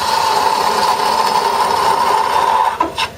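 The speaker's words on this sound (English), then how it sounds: "I'm going to go to a spindle gouge, 1/2 inch spindle gouge." Wood spinning on a lathe is cut with a half-inch spindle gouge while rounding over the top of a wooden mushroom. It makes a steady, close whirring scrape with a sustained tone, and a couple of sharper catches come near the end.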